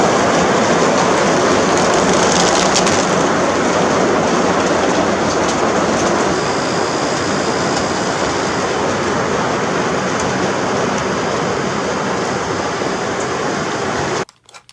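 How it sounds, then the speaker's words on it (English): Heavy rain pours steadily onto a vintage 1974 Avion camper, a dense, loud, even roar that holds without a break for the whole stretch and cuts off abruptly at the very end. "it came up a rainstorm"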